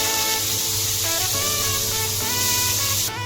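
Onions sizzle in hot oil for chicken korma, a steady, loud frying hiss running close throughout with a faint tonal hum underneath.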